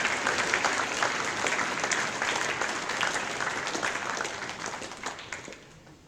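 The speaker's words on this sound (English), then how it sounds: "Please give her a round of applause" School assembly audience applauding during a NAIDOC event, a full, dense crowd clapping that holds steady and then gradually thins and fades toward the end.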